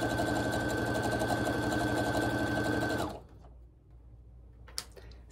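Sewing machine stitching charm pack squares onto a quilting jelly roll strip, a steady rapid mechanical whir for about three seconds that then stops, leaving quiet room noise with a couple of faint clicks.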